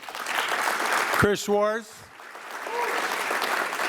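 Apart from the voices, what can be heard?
audience applause at business forum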